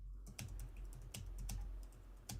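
Someone types on a computer keyboard in a studio, a quick irregular run of crisp key clicks, close and fairly quiet, with no talking.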